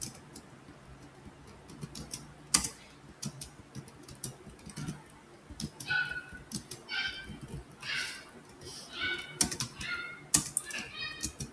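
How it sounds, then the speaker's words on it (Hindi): Someone types on a computer keyboard while writing C++ code, with quiet, irregular bursts of key clicks and a few sharper thumps close by in a quiet room. "टाइपिंग थोड़ी स्लो हुई है मेरी,"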